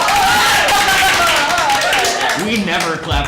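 A small group of people in a rock-themed comedy show studio clap together briefly, the clapping mixed under loud, excited talking and laughter.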